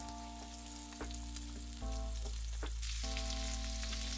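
Pork steaks for ginger pork fry in a pan with a steady close sizzle and crackle, and the tone shifts a couple of times as the meat settles. No one speaks.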